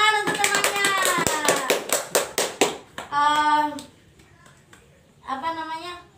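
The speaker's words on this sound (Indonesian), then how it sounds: "Tepuk tangan untuk temannya." Classroom applause for a classmate, a short burst of rhythmic, patterned clapping from a group of children, close and sharp, followed by sung or chanted children's voices.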